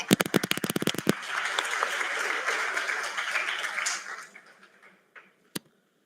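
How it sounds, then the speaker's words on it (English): An audience at a BTech orientation programme bursts into a round of sharp claps that swells into dense applause, then tapers off with a few last scattered claps. "giving a round of big applause for the team"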